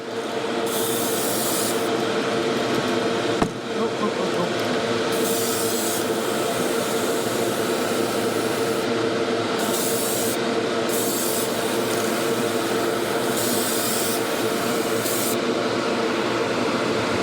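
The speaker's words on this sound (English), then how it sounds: "Cheap Harbor Freight airbrush, non-gravity fed, siphon fed." Cheap siphon-fed Harbor Freight airbrush sprays clear coat onto fishing lures, a continuous close hiss with short louder bursts over a constant background hum.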